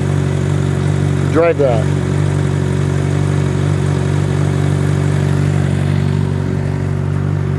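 A Honda CBR 600 RR motorcycle engine running steadily nearby, a loud continuous idle hum with a constant low drone, while a person briefly speaks over it.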